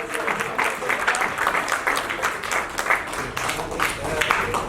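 An audience at a Hindi film trailer launch applauds steadily throughout, a dense wash of clapping from a sizable crowd with a voice faintly underneath.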